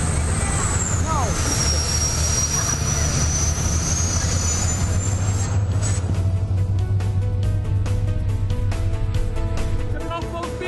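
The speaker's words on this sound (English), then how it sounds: "We're going full speed right now, 47 knots." A 2014 Back Cove Downeast 37 yacht running at full speed, around 47 knots, gives a loud, steady engine drone with rushing wind and water that holds throughout, under occasional voices.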